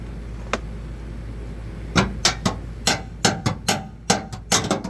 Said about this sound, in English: Now I'm gonna have to get a hammer and tap them through.